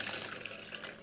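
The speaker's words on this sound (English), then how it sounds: "We are going to pour in the brewed hibiscus tea." Brewed hibiscus tea pours into a pitcher half full of ice, a steady broadband splashing and trickling that stays loud and close for the whole moment, with no voices.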